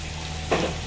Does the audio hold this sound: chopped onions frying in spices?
yes